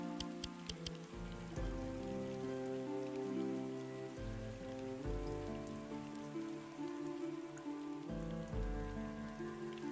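Rain patters steadily in the WarGroove video game, an even drizzle of drops over tonal background game music, with no one speaking.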